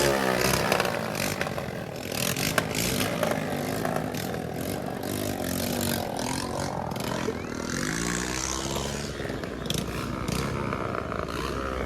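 A motorcycle engine with its silencer removed runs continuously with a harsh, rough roar and rattle, loud and close, amid crowd noise at an outdoor festival gathering.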